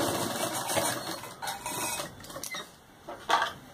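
Sewing machine stitching a patiala salwar, a steady close mechanical whirring and rattling that runs throughout with small surges, no talking.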